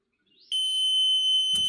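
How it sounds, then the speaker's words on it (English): A corn planter's monitor, powered up with nothing running through it, gives a steady, high-pitched electronic beep after a brief rising chirp, holding loud and continuous, with a short burst of noise near the end. "it's beeping because we have nothing going through it."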